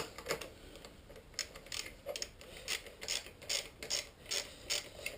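A hand ratchet is worked on bolts of a ZX10R sports motorcycle being converted from track to street use, giving a steady series of close, crisp clicking pawl bursts in even strokes with no talk.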